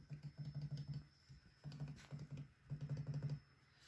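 Keys tapped on an HP Omen 15 2021 laptop keyboard, three quick bursts of soft, evenly paced clicks with brief pauses between them, close and fairly quiet, with no voices.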